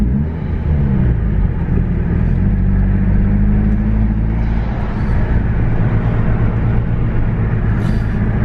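Cabin rumble of a Mk4 Volkswagen GTI with lowering springs while driving, a loud, steady low engine and road drone with shifting tonal hum and no talking.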